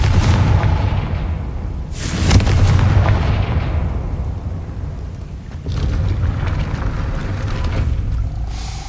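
A Confringo fire spell from Hogwarts Legacy goes off as loud, booming blasts, with one strong burst near the start and another a few seconds later over a steady rumbling game soundscape.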